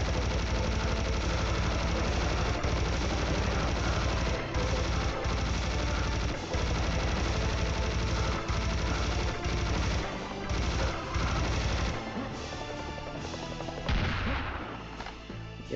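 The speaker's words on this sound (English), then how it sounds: "Now it's time for the chain gun here." Chain gun in Serious Sam: The First Encounter firing in a loud, unbroken stream of rapid shots for about twelve seconds, then breaking into scattered bursts and a final heavy blast.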